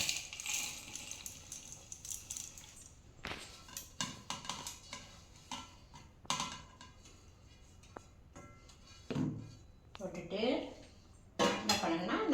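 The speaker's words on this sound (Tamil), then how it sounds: "அரைச்சி இப்போது மிக்சி ஜாரில் போடுறேன்" Roasted spices for a poppy seed gravy are tipped into a mixer jar with a run of clinks, scrapes and metallic taps as spoon and jar knock together, close and fairly quiet.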